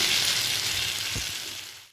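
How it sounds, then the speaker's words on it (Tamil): Tomatoes, onion and green chillies sauté in a pan with a loud, steady close sizzle that fades out at the end. "தக்காளி போட்டு நல்லா வதக்குங்க."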